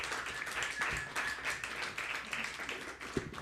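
Audience at a live comedy roast battle show in Cleveland applauding steadily, a dense wash of many hands clapping throughout, fairly loud and continuous with a brief louder burst near the end.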